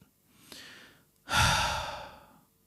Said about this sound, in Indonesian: Napas makhluk itu terdengar berat.